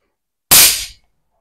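A single sharp air rifle shot fired with a short valve stem during a velocity test, a loud close crack that decays quickly into silence, alone without talk.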